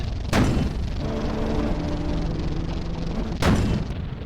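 Gunfire in a video game battle destroying leftover artillery, with two sharp heavy blasts separated by a few seconds and steady rumbling combat noise between them, no talk.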